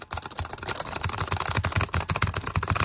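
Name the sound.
computer keyboard typing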